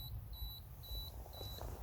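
Canon EOS 5Ds self-timer beeping at night, a steady series of short high electronic beeps repeating about twice a second over faint low background hum, clear and nearby.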